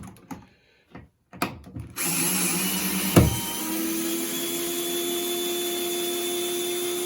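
Electrical outlet driven into its wall box with a cordless power driver, which whirs in a steady close whine for several seconds after a few brief handling knocks and a short burst.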